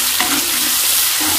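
Spiced chicken masala, moistened with a little water, fries in oil in a pan with a loud, steady, close-up sizzle that carries on without a break.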